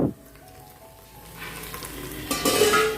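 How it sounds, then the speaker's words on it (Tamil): Onions frying in a pan for chicken biryani: a quiet low sizzle after an opening clatter, rising to a brighter, louder hiss of frying toward the end, close by with no talking. "வெங்காயம் வந்து ஓரளவுக்கு வதங்கியிருக்கு"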